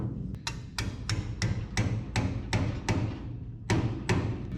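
Hammer blows driving shims into place while rebuilding the rear end of a 1976 GMC, about a dozen sharp metallic strikes at a steady rhythm, close and loud, with a slight pause before the last few.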